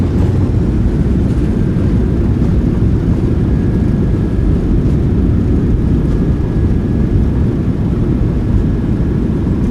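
Thrust reversers of a PMDG 737-700 in a flight simulator roar steadily on landing, a loud, continuous broadband engine rush with a faint whine, holding at near-constant level throughout without voices.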